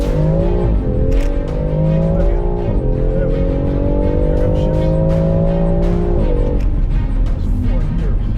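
A BMW X3M Competition SUV launches hard on a road, engine roaring loudly with rising and shifting pitch as tires squeal, the tone climbing, dropping at gear changes, then climbing again in one sustained burst.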